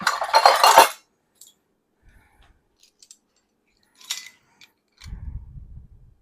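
A metal teaspoon clinks and scrapes against dishes in a kitchen while baking an apple cake. A bright rattle of clatter comes first, then sparse light clinks, then a low thud and shuffle.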